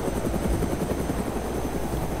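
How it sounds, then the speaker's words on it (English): A helicopter in the DayZ video game flies with a steady, loud rotor thrum and engine whine, the rhythmic blade pulses continuing without a break and with no voices. "I hope this video helped you in learning how to fly a helicopter."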